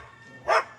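A single short bark from a puppy rises out of quiet outdoor background, one sharp yap near the middle, moderately close and alone.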